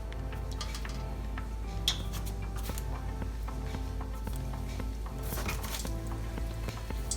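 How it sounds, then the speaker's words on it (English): Beignet dough frying in hot oil gives a steady, dense crackling sizzle throughout, with scattered small pops and clicks close by. "You see, it takes a couple of seconds and then it fizzles."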